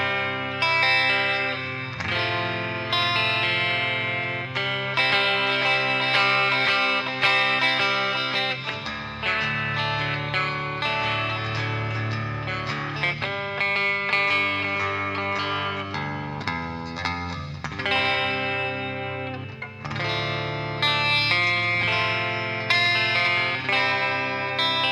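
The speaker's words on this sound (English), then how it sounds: "So this one is pure clean verb." Clean electric guitar chords and melody through the Ugritone Ampenstein Dual Retkifier's clean channel ring out with a spacious reverb tail, played steadily and fairly loud with no voices.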